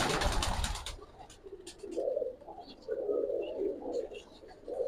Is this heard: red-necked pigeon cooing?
yes